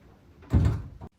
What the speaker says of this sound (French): la porte, c'est moi ou elle a bougé toute seule?